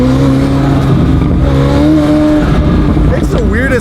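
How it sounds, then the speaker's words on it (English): A McLaren supercar engine revs hard and very loud nearby, a sustained harsh roar with a sweeping pitch, and a person's voice is heard over it. "Makes the weirdest noises, McLaren's."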